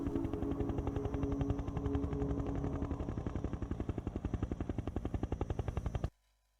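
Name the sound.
helicopter flight in the video game F.E.A.R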